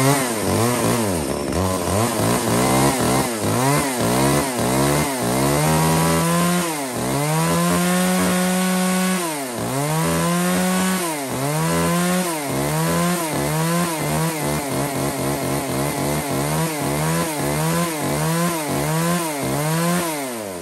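A Stihl or Makita-style two-stroke chainsaw (model R9, a used Japanese-import saw) runs steadily and loud, its engine revving up and down repeatedly in rising and falling sweeps with no talk over it.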